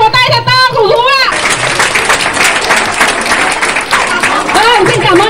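Loud, dense applause from a crowd at a kindergarten folk singing contest fills most of the clip, with a voice speaking over it at the start and again at the end.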